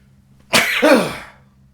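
A single sharp, loud sneeze after taking dry snuff bursts out close by against a quiet background.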